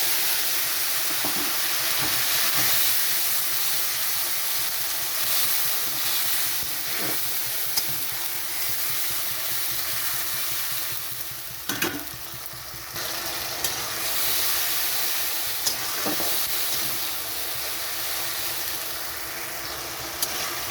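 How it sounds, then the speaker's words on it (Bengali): Tomatoes and green chillies hitting hot oil with lightly fried garlic for a Bengali fish curry, giving a loud, steady sizzle that fills the whole stretch, broken by occasional soft clicks of stirring. "এখানে আমি দিয়ে দিচ্ছি টমেটো আর লঙ্কা"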